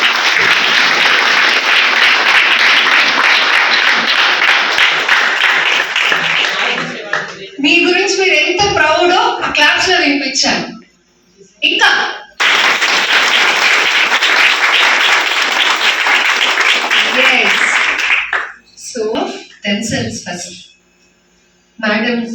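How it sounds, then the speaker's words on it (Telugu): Audience applause at an International Women's Day celebration held at Medicover Hospital in Nellore: loud, sustained clapping in two long bursts, with speech and scattered claps between them. "ఫస్ట్ బిగ్ క్లాప్స్ కొట్టుకోండి"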